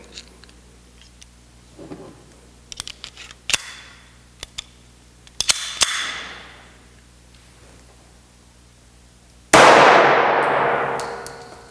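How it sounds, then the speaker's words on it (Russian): A few sharp metallic clicks and clanks, then a single loud shot from a less-lethal traumatic pistol bursts out near the end and rings off with a long echoing decay. "следующий будет выстрел произведен из травматического оружия"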